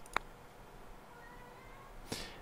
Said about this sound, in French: Ok, le chat veut participer.